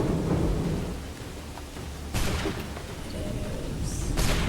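Rain pours steadily in Assassin's Creed 3 while rolling thunder booms twice, deep and loud over the constant hiss, with no one talking.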